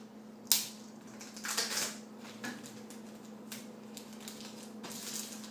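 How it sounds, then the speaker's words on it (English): Packing tape crackles and rubs as it is pressed down over cover paper on a T-shirt being prepped for screen printing, a few short rustling bursts over a steady low hum. "then you're going to tape it down with this packing tape"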